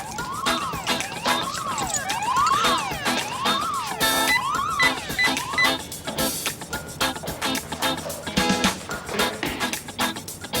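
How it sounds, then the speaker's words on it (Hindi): An indoor alarm rings loudly with a repeating rising-and-falling electronic wail, cycling several times before dissolving into overlapping noise, with no talk over it. "आपने कहा था कि कोई अलार्म नहीं बजेगा, फिर भी कैसे बजने लगा?"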